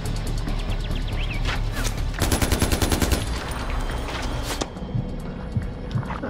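Enemy gunfire in Far Cry 4, a rapid burst of automatic weapon fire crackling loudly in the middle amid ongoing game noise, with scattered other shots and movement around it.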